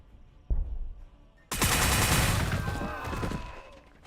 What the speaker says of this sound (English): we'll just fire our splinter rifles